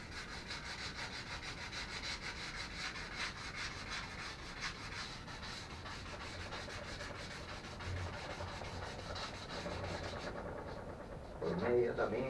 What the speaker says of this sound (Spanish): voy a lijar un poquito para que vayáis viendo cómo se lija